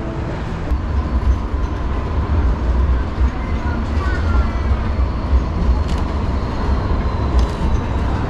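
Tram passing through a city street at night, a steady broad rumble with rail and wheel noise that holds evenly throughout at moderate distance, with no talk.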